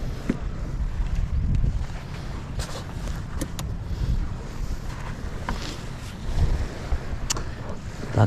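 Sea waves heard from a small fishing boat, a steady wash of water and wind rumble against the microphone, with occasional splashes and knocks on the hull, continuous and fairly loud.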